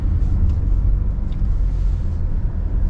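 A car rolls through the roads of Adelaide airport in South Australia, its engine and tyre rumble a continuous low drone heard from inside the vehicle, steady and fairly loud with no talking.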